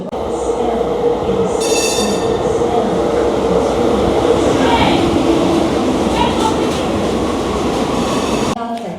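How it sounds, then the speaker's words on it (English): Inside a light rail commuter train while riding: a loud, constant rumble of wheels and car body, with brief metallic squeals and clatter, holding steady until it cuts off near the end. "when we actually catch the train, it looks a lot like a light rail car as opposed to a subway."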